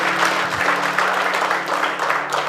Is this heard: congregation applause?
yes